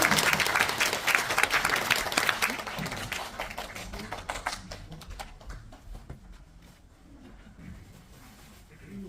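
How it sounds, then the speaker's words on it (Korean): Audience applause at a national poetry recitation contest for people with disabilities, dense clapping loudest in the first few seconds, then thinning and fading to scattered claps. "큰 박수 부탁드리겠습니다."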